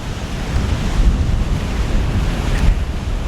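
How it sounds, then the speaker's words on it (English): Strong, cold wind roars and buffets steadily against the microphone outdoors at sunrise, a loud, continuous low rumble with no voices. "it might be a little bit hard with all this wind, and it's a rather cold wind"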